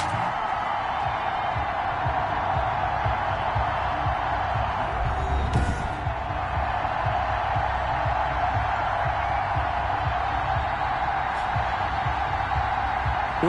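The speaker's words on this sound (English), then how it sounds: "Somehow this place got even louder a short time ago as the Falcons were introduced to this sellout crowd." A sellout stadium crowd for a Falcons versus Seahawks matchup in an NFL video game roars as a steady, loud wash of noise for the whole stretch, with no clear individual voices.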